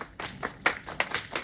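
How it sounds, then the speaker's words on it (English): A group clicks their fingers in unison, about six sharp, evenly spaced snaps at a steady count, close and fairly loud with no talking. "Finger clicks."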